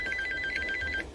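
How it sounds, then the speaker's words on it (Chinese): A telephone bell rings with a rapid, trilling electronic tone, close and clear, on its own with no voices. "一阵电话铃声将他从睡眠的临界点中拉了回"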